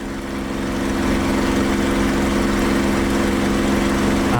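Steady, loud drone of a warbird's propeller engine cruising in flight in the DCS flight simulator game, a constant humming tone that swells slightly at the start and then holds even, with no voices.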